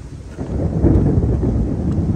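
Thunder rumbles after lightning during a night storm, a loud, deep rolling boom that swells and holds through the short stretch with rain-like hiss behind it.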